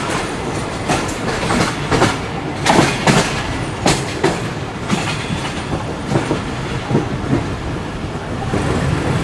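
The Karakoram Express locomotive and train roll along loudly with steady rumble and repeated clickety-clack wheel beats over the rails, no voices present.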